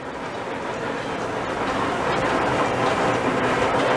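A steady, broadband rumble of an amusement park train at Busch Gardens rolling past at close range, loud and continuous, with faint rhythmic clatter and no voices.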